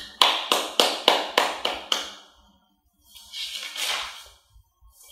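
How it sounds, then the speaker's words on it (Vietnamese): Students at a school flag-raising assembly clap in seven sharp, evenly spaced bursts, then pause before a softer, more scattered round of clapping rises and fades. "Một lần nữa đề nghị các em nổ một tràng pháo tay chúc mừng."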